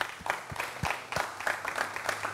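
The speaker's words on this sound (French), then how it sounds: "On applaudit hein, pour lui." Scattered audience clapping from a small crowd at a televised French evening show, steady irregular claps of moderate loudness with no voices over it.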